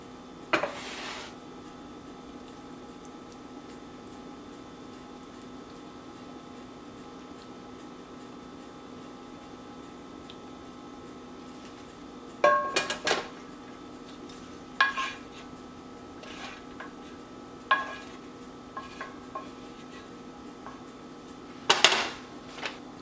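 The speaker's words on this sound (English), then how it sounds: "I'm just going to dump this right in the bowl" Chicken and mushroom gravy is dumped from a pan into a bowl: after a long quiet stretch under a low hum, several distinct metallic clanks and scrapes of pan against bowl ring out close by.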